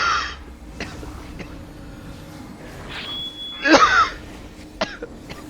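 A person coughs several times during an online game session, with a harsh cough at the start, a louder rough fit near the middle and a few short throat-clearing coughs afterward over faint game sounds.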